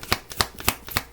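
Tarot cards are shuffled for a reading in four crisp, evenly spaced riffles, close and clear with no voices over them.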